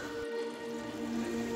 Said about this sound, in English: It's raining straight down.